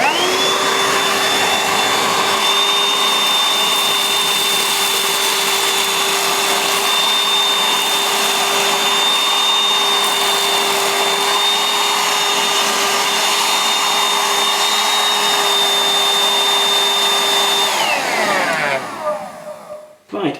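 A Shark 2 in 1 cordless stick vacuum cleaner sucks up a small pile of dirt through its crevice tool with a loud, steady high-pitched motor whine that holds for about eighteen seconds before spinning down.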